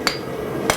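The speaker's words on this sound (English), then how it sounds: "I'm really trying to be as methodical as possible with my hammer blows" Two sharp hammer blows on a hot steel bar being forged into blacksmith tongs, loud and close, ringing briefly a fraction of a second apart.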